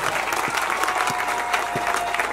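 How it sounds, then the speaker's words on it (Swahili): Dense, sustained applause from a crowd gathered in Baraka, a continuous roar of many hands clapping, with a few louder claps and faint crowd noise. "Hata ngopiga wazalendo makofi"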